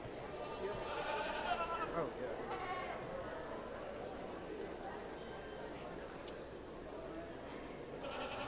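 Market goats bleat repeatedly at a junior regional livestock show, several clear calls early on and another near the end, over a hall's background murmur and an announcer talking.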